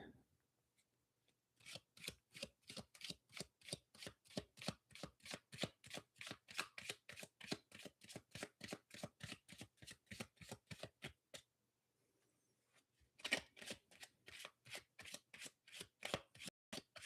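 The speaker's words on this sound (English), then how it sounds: "Okay, one more shuffle for Ari, and then overhand." Tarot cards overhand-shuffled in a steady rapid rhythm of crisp slaps, one long run of about twenty strokes, a short pause, then another burst, close and quiet.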